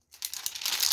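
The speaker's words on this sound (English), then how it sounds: "we're gonna take off the plastic" Plastic protective film crinkles and tears as it is peeled off a new TV, a steady close-up rustle that builds in loudness over about a second.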